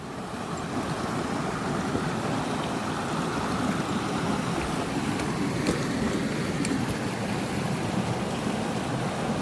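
Rushing water of a high-running rainforest creek among cascades, a steady broadband roar that stays loud and even throughout, with no voices.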